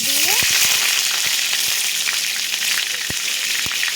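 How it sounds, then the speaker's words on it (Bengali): Cauliflower pieces fry in a generous amount of hot oil for a cauliflower, potato and rohu fish curry, a loud continuous sizzle with a few sharp ticks and clicks, up close and without talk. "তেল গরম হলে আমি ফুলকপিটাকে ভেজে নেব"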